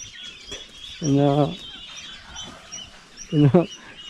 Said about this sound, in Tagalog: Hinahabol yung manok oh.